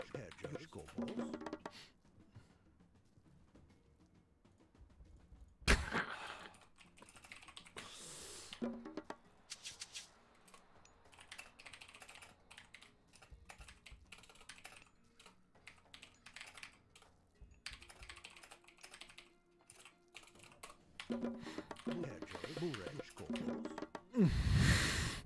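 Rapid clattering on a computer keyboard runs in dense bursts through much of the span during a game of Age of Mythology, close and fairly loud, with a voice talking over parts of it.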